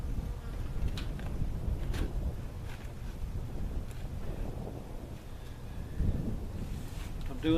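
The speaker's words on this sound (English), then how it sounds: "So bees are all out in the air flying around" Honey bees buzz through the open air around a sugar feeder, a faint, steady hum mixed with wind noise and occasional closer passes.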